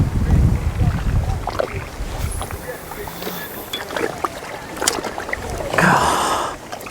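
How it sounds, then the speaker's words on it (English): Wind gusts buffet the microphone at a riverside fishing peg on the Tamar during a live feeder fishing match, rumbling in uneven bursts with a stronger blast toward the end. "Oh, that's windy"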